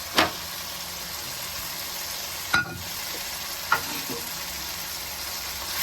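Fried taro (arvi) pieces being stirred and roasted in masala, with a steady low sizzle under a few sharp spoon scrapes against the pan, spaced unevenly.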